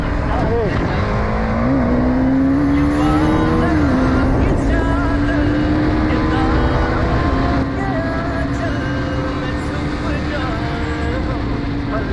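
A 2023 Kawasaki ZX-10R superbike and other bikes idle and rev before a race in Raipur, Chhattisgarh. A loud, sustained engine drone rises in pitch over the first seconds, then holds steady under people talking nearby.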